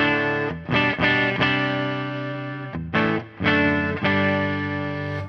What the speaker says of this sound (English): you can probably hear there's a light bit of drive going on in the background if I hit quite hard